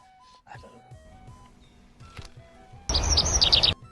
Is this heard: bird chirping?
yes